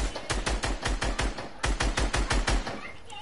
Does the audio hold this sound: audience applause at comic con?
no